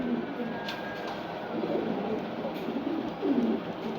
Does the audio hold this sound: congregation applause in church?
no